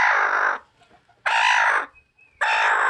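A broody hen gives three loud, harsh clucking calls in a row, each about half a second long, with brief quiet gaps between them, close by.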